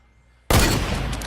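A gunshot rings out in Fortnite, one sudden loud blast straight out of silence, followed by a dense booming tail that stays strong for the rest of the moment.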